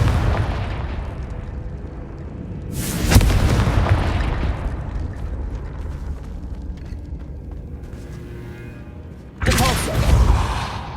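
Confringo spell explosions in Hogwarts Legacy sound as two heavy booming blasts several seconds apart, each a loud burst that rumbles and fades, with quieter game ambience in between.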